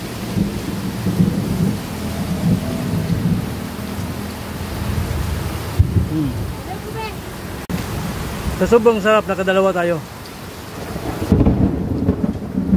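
Thunderstorm with rain and rumbling thunder heard from an eatery in Tanza, low rolling rumbles under a steady hiss of rain, while people talk over it.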